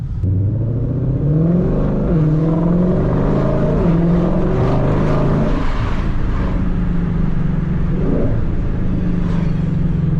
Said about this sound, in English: But this exhaust sounds so incredible.